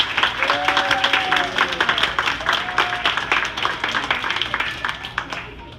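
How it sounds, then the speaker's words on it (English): A crowd applauding at a campaign speech in Kings Point, steady clapping throughout that fades slightly toward the end, with a few voices calling out over it. "So let's give her a round of applause."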